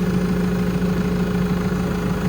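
A steady mechanical drone with a constant low hum and whine from a New Holland TD4 100F tractor's faulty transmission, oil squeezing through valves, running at idle, close and unchanging.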